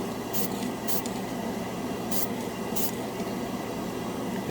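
Design Master Premium Metal gold and silver spray paint sprayed onto a black spoon, four short hissing bursts in two pairs, close by, over a steady background hum.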